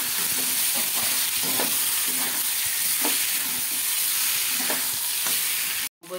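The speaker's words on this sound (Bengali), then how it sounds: "আবার একটু নেড়ে নেবো" Spices and tomato sauce for Kashmiri aloo dum fry in a pan, a loud continuous sizzle broken by regular scraping strokes of stirring, then cutting off abruptly at the end.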